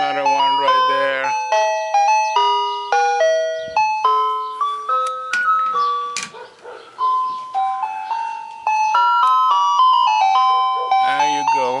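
Chime melody from a 1959 Ford Mister Softee ice cream truck, a loud, close music-box tune of bright repeating notes playing continuously with a brief pause midway, no talk over it.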